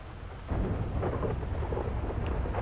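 Thunderstorm weather in Grand Theft Auto V: a deep rumble of thunder rolls in after a quiet start, layered over steady rain, with no talking.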